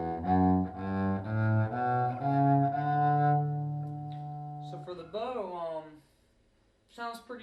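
A Palatino VE-500 electric upright bass played with a bow through a flat-set amp, several sustained bowed notes, the last one long and ringing, followed by a person speaking briefly.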